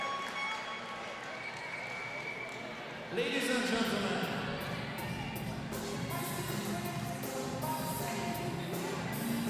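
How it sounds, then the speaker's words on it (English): A basketball arena crowd applauds and cheers for Team USA after the FIBA U19 Women's Basketball World Cup 2021 final against Australia. The sustained crowd roar swells partway through while an announcer speaks over it. "let's give a huge applause to Team USA"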